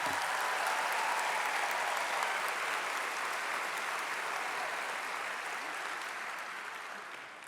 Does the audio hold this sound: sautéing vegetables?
no